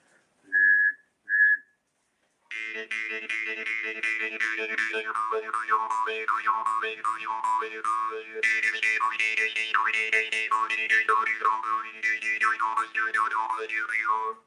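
Two short whistle-like tones, then a jaw harp plays continuously in a high, twangy register, with a steady drone under quick, warbling melodic shifts.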